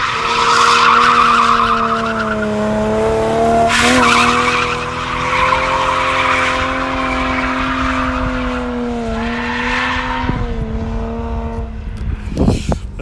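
A JDM Toyota drifts on winter tires, its tires skidding and squealing in a long sustained howl with wavering pitch alongside a steady engine drone, loud and close, ending in a brief burst of noise.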